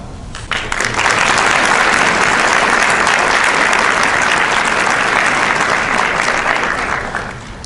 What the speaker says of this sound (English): Please join me in a round of applause for today's pianist and clarinetist, Captain Dana Chavaria and Specialist Paul Wiseman.